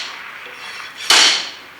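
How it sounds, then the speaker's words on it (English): A slide hammer yanks on dented car body sheet metal during a junkyard car restoration, giving one sharp, loud metallic clack after a quiet stretch of hiss. "I'm going to slide hammer my way to straightness."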